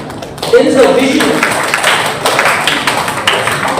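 Conference audience applauding at a university event, a dense wash of clapping swelling loud after a moment and continuing steadily, with a voice briefly heard over it early on.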